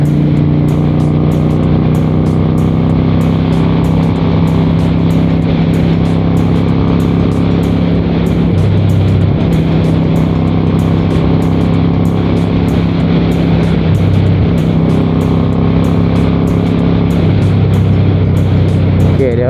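A 1992 Honda Shadow 400 cruiser motorcycle's engine while riding, a loud, steady close-up drone that rises and falls gently as the throttle is slowly opened and eased back, with wind noise throughout.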